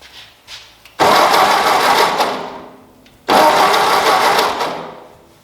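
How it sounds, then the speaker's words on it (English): A Ford 2N tractor engine cranks over twice on its starter, with a spark plug pulled. Each burst is a loud, steady churning whir lasting about two seconds and then fading, with a brief quiet gap between the two. "whenever I crank the engine over"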